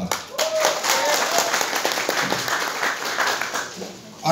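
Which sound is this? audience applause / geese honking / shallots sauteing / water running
audience applause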